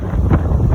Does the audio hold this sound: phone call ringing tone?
no